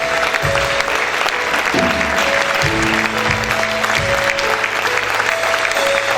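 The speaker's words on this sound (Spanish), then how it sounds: "Siga aplaudiendo a tu Rey." Church congregation applauding together in worship, a dense steady wash of clapping with a sustained organ or keyboard chord and low bass notes playing beneath it throughout.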